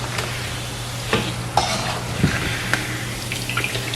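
Steady sizzling of snacks deep-frying in oil, with occasional clinks and scraping stirs over a low hum.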